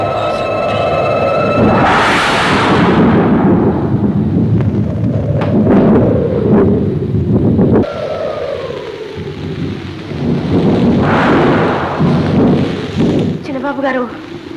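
A wind and rain storm roars loudly with rolling thunder crashes and a constant hiss of heavy rainfall, with a second thunderclap building later as voices speak faintly within the storm.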